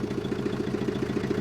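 An old car engine idles in a fast, even chugging rhythm of repeated low pulses with a slight clatter, steady and close with no talk over it.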